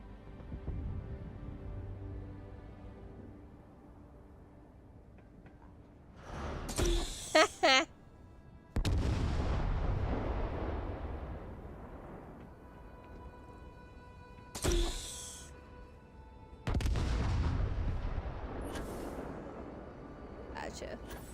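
Repeated bombing explosions in a space video game, several loud broadband bursts arriving at irregular intervals, each followed by a rumbling decay, over steady background game noise.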